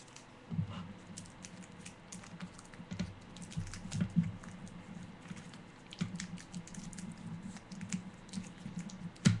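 Tape is wrapped around a Yeti microphone, producing close, soft crackles and scratchy ticks with irregular pulls and pats, faint and continuous with scattered sharper clicks.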